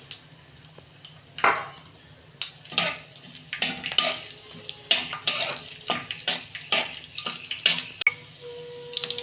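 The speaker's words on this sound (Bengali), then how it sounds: "আমি ওই তেলে কাজুগুলো একটু ভেজে নিচ্ছি" Cashews fry in oil left over from frying boondi, a steady sizzle broken by repeated sharp clinks and scrapes of a spoon stirring against the pan, close and fairly loud.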